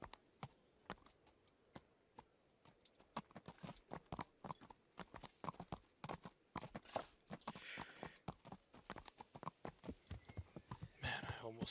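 Horse hooves clip-clop in the Kingdom Come Deliverance video game, a fast, steady train of sharp hoofbeats throughout, loud and close, with faint player talk over them.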